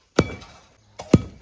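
Two sharp, heavy strikes about a second apart break open a cement sack that rain has hardened solid, each hit a close, loud thunk with a short crumbling tail and no talk.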